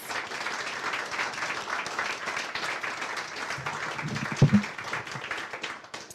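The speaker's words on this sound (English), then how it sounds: "A round of applause for Callum, please." Audience applause at a children's book award ceremony, a faint scattered clapping heard from a distance, with a brief thump near the end.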